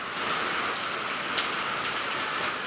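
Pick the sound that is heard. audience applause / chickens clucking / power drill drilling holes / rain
rain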